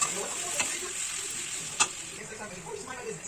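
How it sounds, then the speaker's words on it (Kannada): A spoon stirs dry spice powder through a cooked radish stir-fry in a gently sizzling pan, soft scraping strokes over a steady fry hiss with a couple of sharp utensil clicks. "ಆಮೇಲೆ ಆ ಡ್ರೈ ಪೌಡರ್ ಇರುತ್ತಲ್ಲ ಅದನ್ನೆಲ್ಲ ಹಾಕ್ಕೊಂಡು ಮಿಕ್ಸ್ ಕೊಡಬೇಕು"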